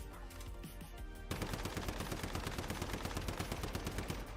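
Rapid automatic gunfire empties a magazine in the video game Once Human, breaking in abruptly after a stretch of background music and continuing as a dense, loud, steady burst of shots to the end.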